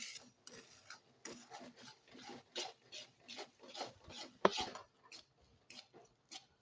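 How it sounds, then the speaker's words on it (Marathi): A hot peanut and sugar syrup mixture is stirred quickly in a pan, giving repeated soft scraping and rasping strokes with a sharper clink near the end, close and faint. "पाक हे व्यवस्थित असं पटपट हलवून घ्यायचंय।"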